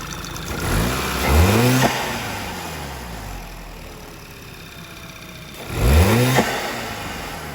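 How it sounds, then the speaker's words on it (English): A Volkswagen Golf GTI MK6 engine running, revved twice in two short, rising bursts separated by a steady idle, heard close and loud. "The engine's on."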